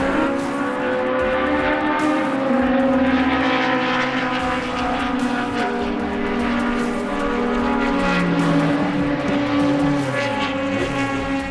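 A race car running qualifying laps roars steadily and close by, its engine pitch rising and falling slightly as it runs continuously.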